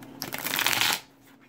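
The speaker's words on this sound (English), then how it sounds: "shuffle it one last time" A deck of Pokemon trading cards being shuffled by hand, a quick close riffle of about one second that stops abruptly, leaving a faint background.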